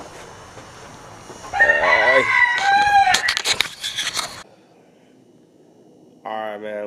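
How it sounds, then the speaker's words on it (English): Chickens cluck and a rooster crows loudly nearby in the early morning before dawn, with overlapping calls fading out before a final burst of clucking. "My chickens are roosting right now."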